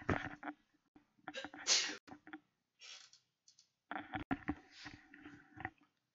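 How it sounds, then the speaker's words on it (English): A person's sneeze bursts out among scattered keyboard-like clicks and a few short vocal sounds, close and fairly quiet, with brief pauses of silence between the noises. "I'm gonna sneeze."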